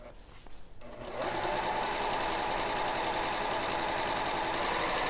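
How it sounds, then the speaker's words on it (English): A sewing machine stitches a 3/8 inch seam on a pillowcase, starting after a brief pause and then running steadily with a fast, even needle rhythm, close and loud, with no talk over it. "I'm just going to do a 3/8 inch seam just so I make sure I enclose that seam inside."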